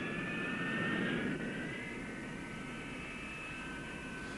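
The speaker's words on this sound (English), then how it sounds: "the engine is opened up to higher speed and finally shut down" An early jet engine runs at a steady high-power roar with a whining tone over broad rushing noise, swelling slightly at first and then holding even and continuous.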